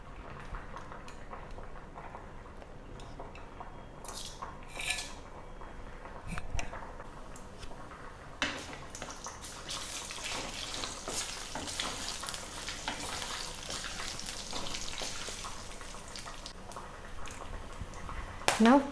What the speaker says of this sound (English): First, let us heat some refined oil, and into this we'll add our whole spices.